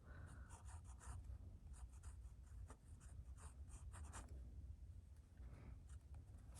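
A fine-point fountain pen writes on paper close to the microphone, making a soft, continuous scratching with rapid short strokes and brief lifts, quiet and alone.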